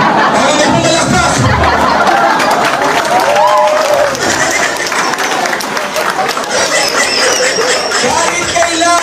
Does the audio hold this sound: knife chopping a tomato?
no